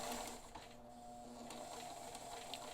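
A Bernina 530 Record sewing machine running a blind stitch, giving a steady mechanical hum with light rhythmic ticking, fairly quiet and close, with no talking.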